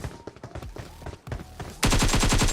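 Rapid automatic gunfire in the PUBG video game while the player moves, loud sharp bursts at the start and then a dense, evenly spaced volley of shots near the end, with no talking.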